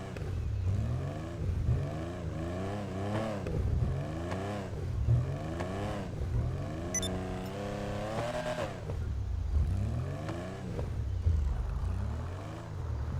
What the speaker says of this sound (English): I'll get in and rev the engine a little bit.